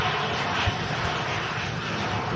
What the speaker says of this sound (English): Ryanair flight in from Milan.